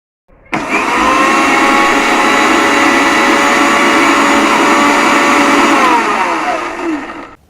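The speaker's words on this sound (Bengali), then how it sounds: "দেন এই সব উপকরণগুলোকে ব্লেন্ড করে নিব।" An electric blender whirs through grill sauce ingredients including sour mango pickle and salt, starting abruptly, holding a loud, steady motor whine for about six seconds, then winding down.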